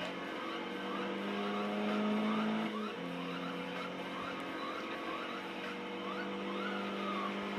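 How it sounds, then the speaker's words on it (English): Cars racing in the Need for Speed video game, one drifting with sustained tire squeal over a steady engine roar, loud and continuous with a brief dip near the three-second mark. "look at that good drift going on there"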